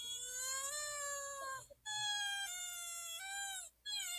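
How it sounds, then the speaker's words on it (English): A frog's drawn-out, high-pitched scream, close and loud, in two long wailing cries with a short break between them and no one talking over it. "I hate how frogs scream like that"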